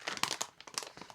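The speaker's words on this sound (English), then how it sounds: "it says to open the packet" A Peak Refuel backcountry meal packet is torn and opened up close, making a quick series of crinkling, crackling plastic-foil rustles in short bursts.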